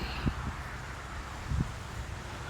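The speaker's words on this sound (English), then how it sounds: "I apologize on the wind. It's very windy today." Gusty wind buffets the microphone at an abandoned airport, low rumbling thumps rising in a couple of bursts over a steady outdoor hiss.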